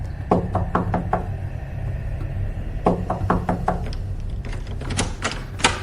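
An older woman knocks on a door in sharp, quick clusters of raps, three or four at a time, with short pauses between bursts, close and distinct over a low hum.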